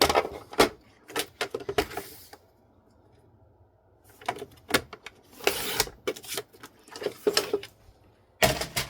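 Card stock being trimmed to size with a paper trimmer or cutter, bursts of sliding, rasping cuts and clacks separated by quiet pauses, close and alone.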